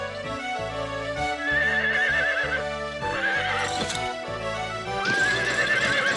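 A cartoon horse whinnies several times over a steady, rhythmic clip-clop of hooves, loud and close, with a musical score playing underneath and no talking.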